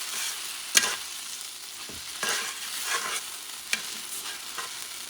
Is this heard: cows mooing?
no